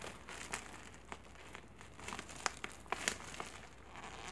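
A plastic bag of 100% cotton crochet yarn is crinkled and pulled open, giving a quiet run of irregular, close crackles and rustles, with sharper snaps toward the end and no talking.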